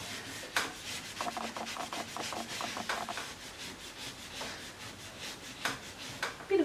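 A cloth wipes baked-on dirt from inside a steam oven, giving a steady close rubbing and scrubbing with rhythmic strokes and occasional light knocks, with no talking.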